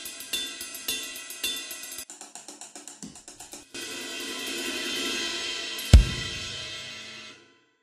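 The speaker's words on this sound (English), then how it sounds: "Here's my electronic ride cymbal." An electronic ride cymbal is struck repeatedly, first in slow hits, then a quicker run of taps, then a sustained washy ringing capped by one hard accent.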